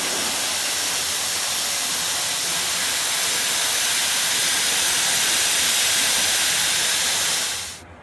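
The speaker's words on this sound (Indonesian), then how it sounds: "Saatnya kita membuang uap ya." An espresso machine that has been switched off releases its steam during a backflush: a loud, continuous, close-up hiss that holds steady for several seconds and then cuts off sharply.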